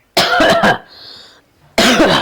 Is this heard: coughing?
yes